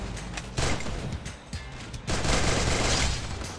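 Rapid automatic gunfire sprayed from a gun in a first-person shooter game, dense loud bursts of shots with a brief pause before a longer sustained volley.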